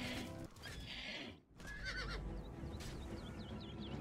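A horse in The Elder Scrolls Oblivion lets out loud, close whinnies and snorts, broken by a brief dip, over scraping hoof sounds and a low rumbling background.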